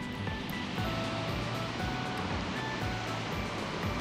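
Sea waves wash in at West Izu, Shizuoka at sunset, a continuous loud rushing surf with a low rumble and some wind, close by and unbroken, with no voices.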